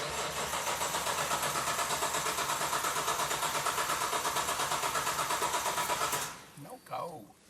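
A Nissan 240Z with a GT-R engine and no exhaust fitted cranks repeatedly in a steady rapid rhythm for about six seconds without catching, then cuts off, followed by brief faint noises.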